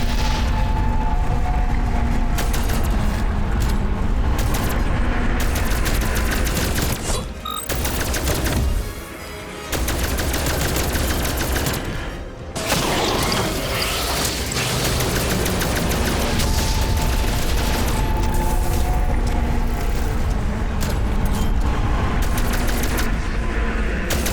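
Sustained gunfire from the Call of Duty: Black Ops Cold War video game, a dense, loud barrage of overlapping shots and booms that runs almost without a break, dipping only briefly twice.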